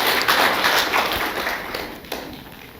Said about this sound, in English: let us put a round of applause